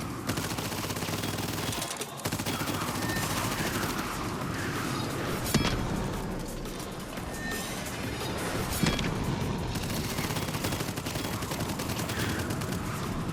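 Continuous gunfire in the roguelite first-person shooter Abyssus, a dense, steady barrage of rapid shots with a couple of sharper impacts, held at an even level throughout without a break.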